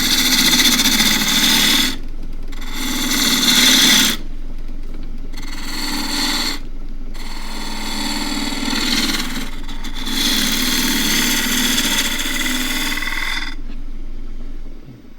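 A woodturning lathe cutting a dish with a shallow gouge, a steady motor hum overlaid by hissing cutting passes that start and stop in several bursts, close and fairly loud, no talking.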